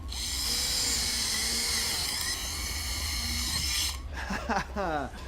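A cordless drill motor whines steadily for several seconds, then cuts off, followed by a short burst of voice.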